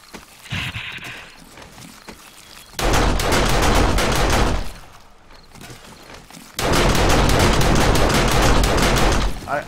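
Defensive turrets firing during a horde night in a survival video game: two long bursts of rapid, steady automatic fire, loud and close, separated by a quieter gap.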